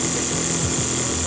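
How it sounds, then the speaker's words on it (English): A campervan water pump runs loud and steady, a continuous mechanical buzz with a high whine and low rattling hum, close and alone with no voices. "My pump's so loud."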